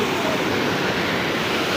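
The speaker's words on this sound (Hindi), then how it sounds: "पानी तो बहुत ज़्यादा बहाव हो रहा है पानी तो रोड क्रॉस कर रहा लगता है" Swollen river in the Uttarakhand hills after heavy rain, floodwater rushing strongly and spilling across a road, a loud, steady broadband roar of churning water that stays constant throughout.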